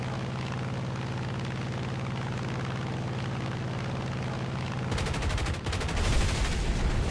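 P-47 fighter in War Thunder: a steady, droning aircraft engine runs for several seconds, then loud, rapid bursts of machine-gun fire crackle over it near the end.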